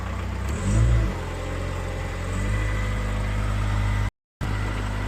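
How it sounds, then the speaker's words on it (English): Machine at a Ritchie Brothers equipment auction listed as inoperable, its engine given throttle: a steady loud engine drone that swells in a rev near the start, then holds at an even idle. "Let's give it some throttle."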